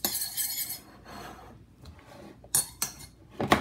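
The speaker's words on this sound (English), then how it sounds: "I'm just gonna stir" A spoon stirs grandma's homemade sofrito in a pot, giving a few scattered scrapes and light metallic clinks with quiet pauses between them.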